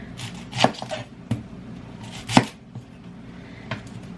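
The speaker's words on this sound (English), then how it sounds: "I'm going to go ahead and cut up my onion" A knife chops an onion on a board in a few sharp, separate strikes with pauses between, close and fairly quiet over a soft room background.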